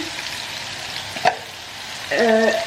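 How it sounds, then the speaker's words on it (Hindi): A steady sizzle of food frying in a pan, with a brief clink and a rising whistle-like tone near the end. "इसको भी अच्छी तरह से फ्राई कर दूंगी"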